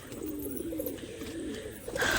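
Domestic pigeons cooing in a loft on a rainy day, a low, soft, rolling coo repeating close by, ending with a brief sharper noise.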